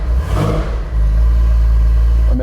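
A Walter Röhrl car's engine revs loudly at close range, a rising burst settling into a steady deep sonorous drone that holds to the end.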